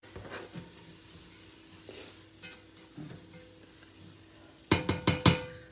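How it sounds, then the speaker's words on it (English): Garlic going into an 8-quart Brilliance stockpot for creamy mushroom soup sets off a soft sizzle with light stirring. A burst of sharp metallic clatters from the pot follows near the end. "Put this garlic in here."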